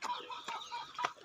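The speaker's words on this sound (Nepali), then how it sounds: "हेर्नु कुखुराको हल्ला" Chickens cluck and squawk on a farm near Pudung, a busy overlapping chorus of fowl calls with a few sharper bursts, moderately close and without talk.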